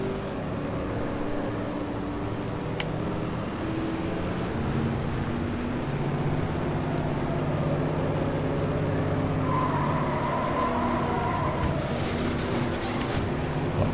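A race car in the game Short Track Showdown skids under handbrake, its engine droning steadily with shifting revs and tyre squeal rising toward the end, a few sharp clicks near the finish; no talking.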